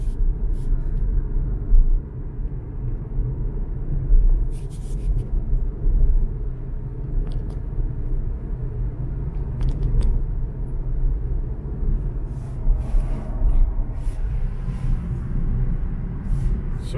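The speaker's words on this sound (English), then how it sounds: "Put some speed to the car." A Mercedes-Benz CLA 250e AMG cruises on a highway, heard from inside as a steady, even low rumble of road and drivetrain with faint small clicks and no clear surge.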